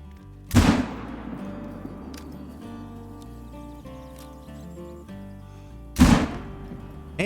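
A rifle shot in a hunting video game, fired at a whitetail buck, cracks loud and near twice, roughly five seconds apart, each blast trailing off over soft ambient game sounds between.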